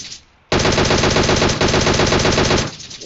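Rapid automatic gunfire in an online shooter game, a loud sustained burst of about two seconds after a brief quiet start, fading out at the end.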